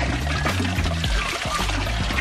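Water pouring steadily from a hose or container into a home fish tank during a water change, a continuous close splashing flow with a low hum underneath and no speech.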